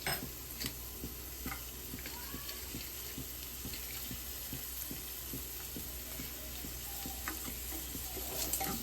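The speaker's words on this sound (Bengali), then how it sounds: "দেন পেঁয়াজটাকে অল্প রোস্ট করে নেবো ঘিয়ের মধ্যে, লাল হয়ে যাওয়া অবধি" Onion frying in ghee and being stirred, with a continuous soft sizzle and regular light ticking stir strokes, close and fairly quiet, with no voices.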